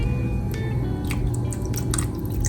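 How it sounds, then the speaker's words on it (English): Apple cider vinegar splashing and dripping into a dish while cooking collard greens, a few short wet drips and splashes close by over a faint steady background. "I also like to add a little bit of apple cider vinegar for that twang we love so much"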